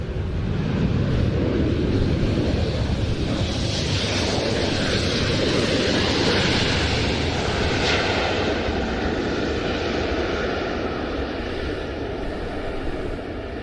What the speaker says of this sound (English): the Poseidon MRA-1 touches down from 120 Squadron of the Royal Air Force at RAF Lossiemouth